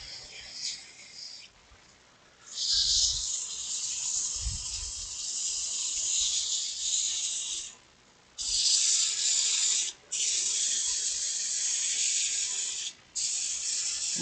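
Sandpaper rubs a spinning wooden snowman on a woodturning lathe in a steady close hiss, pausing briefly a few times between passes, with low thumps early on.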